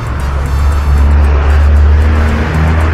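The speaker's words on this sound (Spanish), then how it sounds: "Ese ruido son los carros." Cars passing steadily along a road beside a small park in El Palmar, Santa Ana, a continuous loud rumble of traffic that swells and eases with no talking over it.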